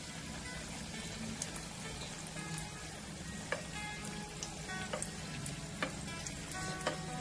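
Champakali sweets frying in oil over a low flame, a steady soft sizzle with faint crackles and occasional small pops, close and quiet with no talking.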